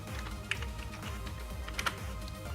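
Typing on a computer keyboard while setting up a Raspberry Pi, a quiet run of light, irregular key taps over a steady low hum.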